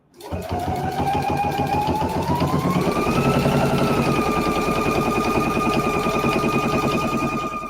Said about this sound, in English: Right now, I'm just stitching on the carriers.